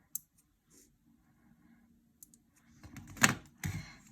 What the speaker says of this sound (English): I'm going to take some curved scissors because the nail tip is curved, so I can trim the edges